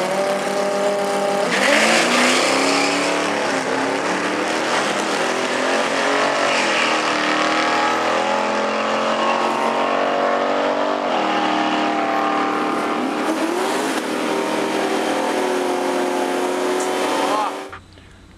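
Nissan GT-R race car roaring along a track, a loud sustained engine note rising and falling through gears with faint tire noise, continuous for most of the stretch before cutting off abruptly.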